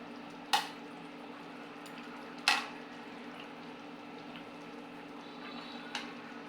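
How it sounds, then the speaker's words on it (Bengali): A lid goes onto a pot of tangra fish curry with long beans, tomato and potato, giving two sharp metallic clanks a couple of seconds apart and a lighter tap later, over a steady low simmering hum. "এখন আমি ঢাকনা দিয়ে ঢেকে দেব।"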